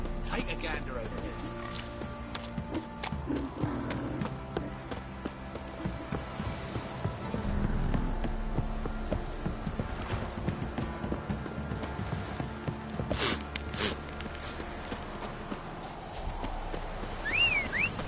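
Hooves of Roach, the horse in Witcher 3, clip-clop in a quick steady trotting rhythm throughout, with voices talking over the hoofbeats and a brief whinny near the end.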